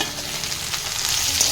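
Chopped tomato fries in a pan as it is stirred, giving a loud, dense, close sizzle that swells slightly toward the end of the short stretch.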